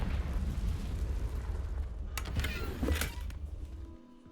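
A Confringo fire spell bursting in Hogwarts Legacy: a rumbling explosive blast with sharp crackling pops near the end, fading into quiet.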